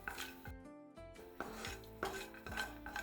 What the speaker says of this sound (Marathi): असं सतत हलवत आपण त्याला फ्राय करून घ्यायचे.